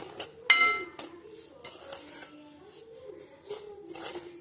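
A spoon scrapes and clinks against a pan while semolina and grated fresh coconut are stirred together for rava ladoo, with one louder clatter early on and a faint voice in the background.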